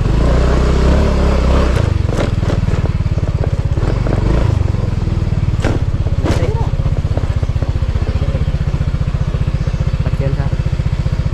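A motorcycle runs steadily throughout with a continuous low engine drone and rattling clatter, heard close while people talk over it.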